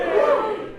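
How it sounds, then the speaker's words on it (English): An audience at a comedy show cheers briefly, a short swell of mixed voices and whoops that rises, then fades. "give me a little cheer if you are under 30"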